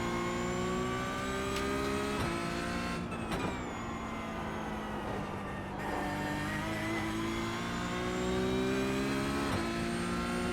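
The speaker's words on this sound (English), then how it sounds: "Faster car coming up quick." Racing engines roar in a Nürburgring endurance race video game as a faster race car closes in, a loud continuous high-revving drone whose pitch climbs and dips through gear changes.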